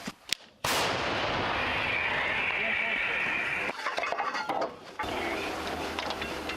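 A sudden heavy howitzer blast cuts in after a brief pause, followed by a long roaring wash of noise and later clattering movement nearby, as a Ukrainian artillery crew fires near Pokrovsk.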